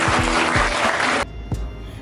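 An audience at a presentation applauds in a thick burst of clapping that stops abruptly partway through, leaving a quieter room with a few scattered claps afterward.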